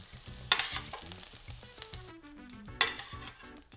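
Onions and garlic fry in a pan with a steady sizzle, broken by two sharp stirring clatters, while soft music plays underneath.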